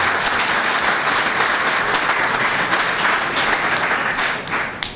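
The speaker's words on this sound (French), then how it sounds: "nos valeureux enseignants ici présents que je vous demande d'applaudir" An assembly at an association's official launch in Ségou applauds the teachers present: thick, continuous clapping from a large crowd, loud and even, tapering only at the very end.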